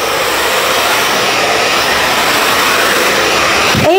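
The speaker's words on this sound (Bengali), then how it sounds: "তো আমরা এখন ড্রাই স্টার্ট করেছি।" Hair dryer blowing at a beauty salon during a hair-drying step, a loud steady broadband rush of air filling the whole stretch, with no talk over it.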